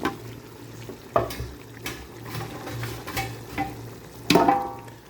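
Vegetables sizzle in masala oil in a pan while a spoon stirs them, with scraping and clinks at irregular moments over a soft, steady frying hiss close by.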